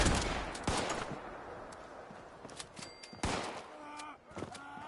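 Gunfire in the video game Fallout 76 crackles in bursts, with several sharp shots and rapid volleys over a noisy background, and a voice briefly heard among them.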